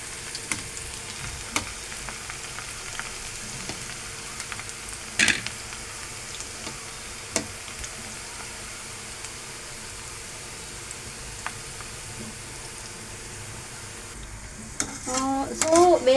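Cauliflower pakodi frying in hot oil, a steady low sizzle and crackle running throughout, with occasional stirring clatter and a few sharper metallic knocks near the end.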